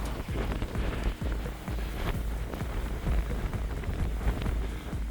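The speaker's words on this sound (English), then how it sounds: "But it is a bit windy." Gusts of wind buffet the microphone on a Scottish mountain near Beinn Tulaichean and Cruach Àrdrain. There is a continuous rumbling roar with sharp bursts, loud and close, and no talk.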